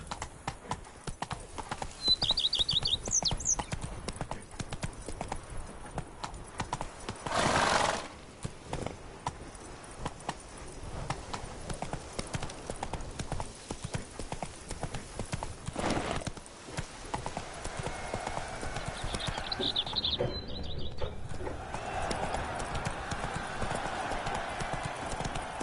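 Roach the horse moving at pace in The Witcher 3, a steady run of clip-clop hoofbeats with brief whinnies early and late, a short whoosh midway, and faint voices now and then.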